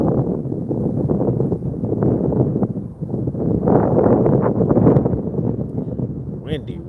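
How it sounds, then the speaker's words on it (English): Gusty wind buffets the microphone at a rail junction at Rock Creek, a steady rumbling roar that rises and falls, with a person talking over it. "Windy."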